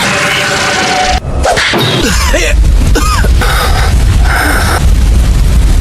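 A fire-style dragon flame jutsu in a Naruto video game erupts with a loud booming blast and whooshing roar, followed by sustained crackling rumble and swishing effects.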